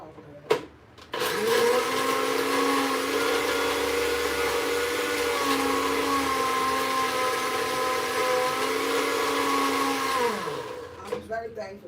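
A kitchen blender in a Ghanaian home runs loud and steady for about ten seconds with a high motor whine, starting abruptly after a brief click and winding down near the end.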